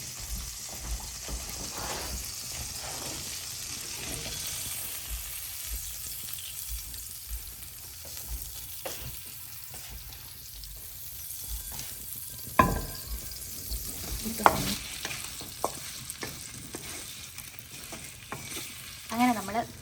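Paneer sautéing in butter in a pan gives a steady close sizzle throughout, with a few sharper scrapes and clinks of stirring toward the middle; no one speaks.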